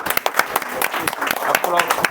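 A church congregation in a prayer hall claps in quick, uneven bursts, sharp hand strikes close by, with speech running over the clapping.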